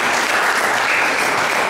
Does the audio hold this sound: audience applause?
yes